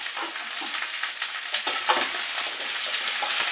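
Greens (kachur lati) going into a hot oiled pan, a close hissing sizzle with scraping stirs and small pops, steady and alone without voices.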